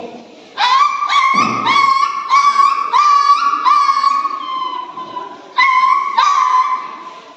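A child imitates a dog with a string of high, drawn-out whining yips, several calls in a row, loud and close with no other sound.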